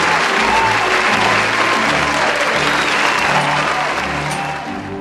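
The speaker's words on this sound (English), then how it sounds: "Let us clap our hands." Graduation audience applauding in a hall, a dense, steady wash of many hands clapping close by for five seconds, with faint voices murmuring underneath and the clapping tapering slightly at the end.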